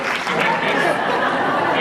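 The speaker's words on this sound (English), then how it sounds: "Let's give them a round of applause." Audience applause mixed with crowd chatter and a little laughter at a vegan panel event, a dense steady burst filling the whole moment at moderate loudness.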